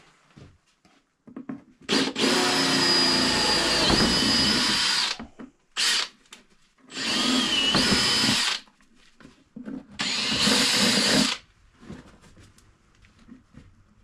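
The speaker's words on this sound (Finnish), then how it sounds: "Nyt voidaan poraa noin kiinnitysreijät tuolta." A power drill bores mounting holes while a smaller rear box is fitted to an ATV, running in four bursts of varying length, loud and close, with short pauses between them and no talk.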